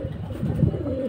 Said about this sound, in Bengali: এখানে খুব সুন্দর আরও একটা উঠতি লাইনের কবুতর।